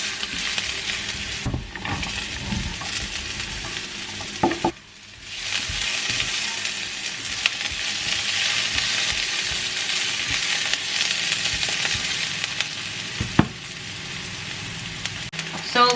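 Onion and garlic sizzling and frying in a pan, a continuous crackling hiss with a brief dip midway and occasional sharper pops, no talking.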